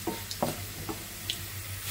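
Bay leaf and cumin spices dropped into hot oil, a soft continuous sizzle with a few light stirring clicks and scrapes close by, no talk.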